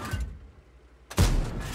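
A single loud tank cannon shot in World of Tanks, fired by a T77 on the Wadi map, a sharp heavy boom about two-thirds through that follows a quieter rumbling stretch of engine and ambient game noise.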